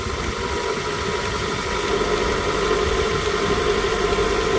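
A car engine idles steadily right after starting, a continuous mid-pitched hum with light vibration and no voices over it, during diagnosis of a no-crank, no-start fault.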